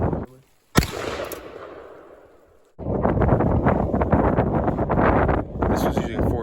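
A homemade black powder cannon with a short barrel fires a 90-grain charge: one sharp, loud blast whose rumble decays over two seconds, followed by strong wind buffeting across the microphone outdoors.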